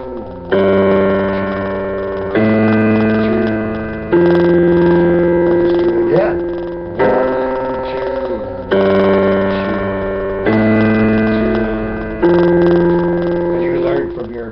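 Piano playing Let It Be during a beginner lesson, steady sustained chords in blocks of about two seconds with a low left-hand bass line beneath, close and fairly loud, notes held and repeated in a slow even rhythm.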